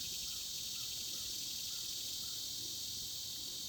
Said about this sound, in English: The insects are angry.